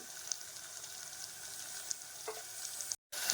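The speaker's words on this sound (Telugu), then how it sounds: "ఇదిగోండి ఒక్కసారి బాగా కలపండి" Ridge gourd frying in a pan with turmeric and pink salt, a steady close sizzle with a few faint clinks as it is stirred, and no talking.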